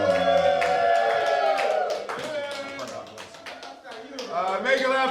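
A comedy show crowd claps and cheers as a comedian is welcomed to the stage, a rattling wash of applause running beneath a loud voice and fading partway through before swelling again.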